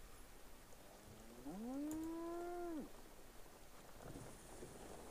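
A cow lowing in Civilization IV, one drawn-out moo rising then holding steady for just over a second, set against a soft rain-like game ambience.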